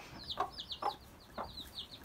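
A broody hen gives soft, low clucks in the coop while her chicks peep high and thin around her. The sounds are faint and repeat in short bursts.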